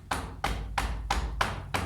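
Open hands pat the chest in a quick even rhythm, about six dull slaps with a soft thump underneath, close by and moderately loud during a wake-up exercise routine.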